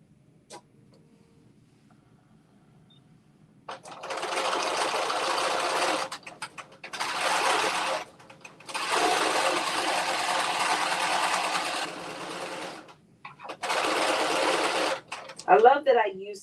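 A sewing machine stitches mustard-colored thread into a wrap dress in several loud bursts of a few seconds each, separated by short stops, close up, with a brief voice near the end.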